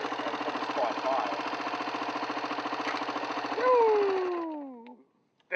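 An engine running at high, steady revs during desert riding gives a loud, rhythmic pulsing drone that holds constant, then winds down in pitch and fades to silence near the end.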